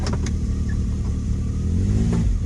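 A UTV engine, started with a duplicated key, cranks briefly and then catches into a low, steady idle rumble close by, with a short rise in revs near the end.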